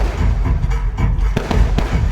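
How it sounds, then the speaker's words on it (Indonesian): Fireworks burst at the opening of the Sulteng Nambaso 2025 exhibition, a staged public event, with a rapid run of loud, close booms and crackling thuds, one after another, with no voices. "Sepertinya kita harus menikmati dulu pertunjukan kembang api yang baru saja."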